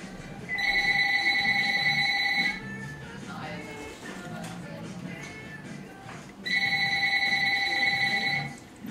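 A telephone rings in a kitchen where a wedding cake is being iced, giving two long electronic ringing bursts separated by a gap of quiet room noise, loud and close.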